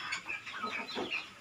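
Bangkok chickens, a fighting breed, clucking and calling in a quick run of short, bright squawks lasting about a second and a half, close and moderately loud with no talk over them.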